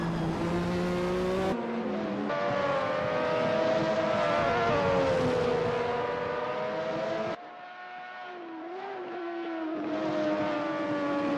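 Lotus 98T race cars scream around Donington Park in a racing video game, with high engines holding a sustained whine and shifting pitch. A gear change or cut breaks the sound partway through before the revs climb again.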